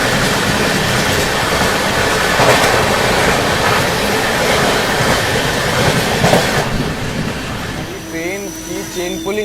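Bhubaneswar Tejas Rajdhani Express rushing past on Indian railway tracks, a loud continuous roar with rhythmic wheel clatter, fading near the end as high squeals and tones emerge; a voice talks over it.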